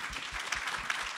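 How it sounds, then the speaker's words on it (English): Steady applause from a conference audience for a panel, a dense wash of clapping filling the short moment at moderate volume. "give our distinguished panelists a round of applause"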